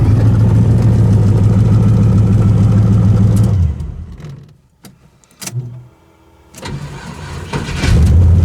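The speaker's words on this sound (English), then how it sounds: "That's a cold start." An engine fitted with a tunnel ram intake runs with a loud, lumpy idle, then cuts out. A few faint clicks and bumps follow before it loudly fires and catches again at the end.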